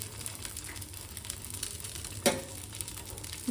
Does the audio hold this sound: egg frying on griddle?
yes